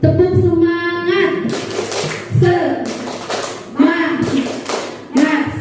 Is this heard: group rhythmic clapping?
yes